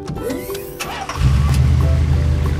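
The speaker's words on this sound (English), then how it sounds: "Garbage truck." Engine sound for a toy garbage truck: a short cranking start, then a loud, steady low rumble of idling that holds to the end, with no talking.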